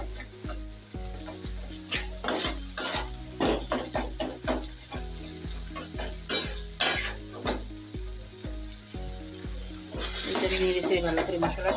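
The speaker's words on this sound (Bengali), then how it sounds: "তো গাইস, এই তো আমি মশলাটা ভালো করে কষিয়ে নিচ্ছি" Spice masala stir-frying in a pan for singi fish curry: a continuous close sizzle broken by rhythmic scraping strokes of a spatula, with a steady low hum underneath and a louder sizzle burst near the end.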